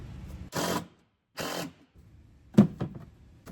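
A power driver runs screws through the mounting clips of a boat battery box on a pontoon, giving two short whirring bursts and then a few quick clicks and knocks, close by with no talking.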